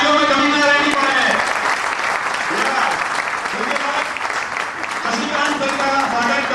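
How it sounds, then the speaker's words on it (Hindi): An audience applauds to welcome a speaker at a gathering, with loud, dense, sustained clapping that fills the whole stretch while a voice talks over it. "जोरदार तालियों में कमी ना रहनी पड़े।"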